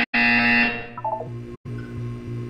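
A buzzer in the Portal 2 video game sounds as a loud electronic tone, cut off briefly, with a second lower buzzing burst following, alone without talk.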